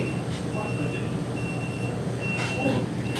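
Electronic beeping at a pasta counter where food is ordered, steady repeated tones running through noisy indoor chatter, with people talking throughout.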